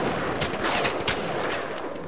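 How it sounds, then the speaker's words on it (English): Shotgun fire in BioShock mixed into a dense, loud wash of game noise, with several blasts standing out as broad bursts over a constant roar. "Get closer to me so I can test out my shotgun damage"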